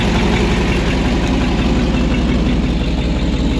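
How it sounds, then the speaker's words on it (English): Ford FE V8 in a 1966 Ford F100 4x4 idling with an exhaust leak at the manifold, a steady loud close rumble with a rapid ticking pulse and no talk. "Fires right up. Has your typical FE exhaust leak."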